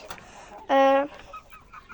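A single loud, nasal squawk from a green-legged (Zielononóżka) chicken close by, in a flock of hens and young roosters, lasting under half a second, with faint background sounds around it.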